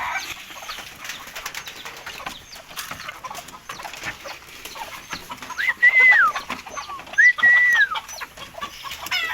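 Six pigeons sit in a training box, giving soft, scattered calls and a few short, clearer chirping notes over a constant noisy background, with no talking.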